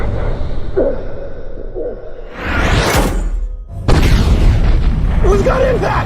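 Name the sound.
bombs exploding on impact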